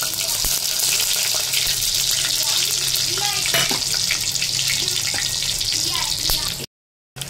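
Whole spices fry in oil and ghee at the start of a chicken curry, a steady close sizzle with a few stirring clinks before a brief silent gap near the end.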